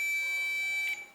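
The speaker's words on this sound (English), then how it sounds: "if the beep is coming, then in that case the multimeter is working" A digital multimeter set to continuity mode gives one steady electronic beep that holds for about a second before cutting off, close and clear over a quiet room, with a faint click at the end.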